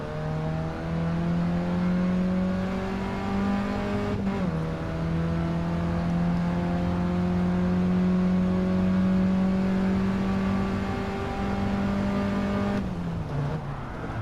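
Race car engine in Gran Turismo 7 on racing tires, droning steadily at close range with long upshifting gear pulls and two brief dips where the revs drop before climbing again, with no voices.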